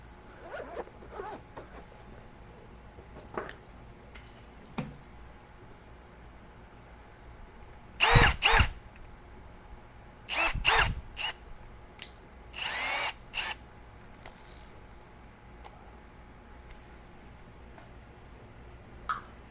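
Power drill boring a hole in aquarium glass for a bulkhead fitting, heard in a few short, loud bursts of whirring and grinding between long quiet stretches with faint handling noises.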